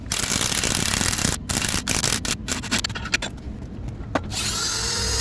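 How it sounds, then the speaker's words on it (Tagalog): Power drill fitted with a step drill bit cutting through a copper plate for a DIY battery bus bar, a loud continuous grinding whine with short pauses and load changes, then a higher steady tone near the end. "step up drill bit ay binutasan ko yung copper plate"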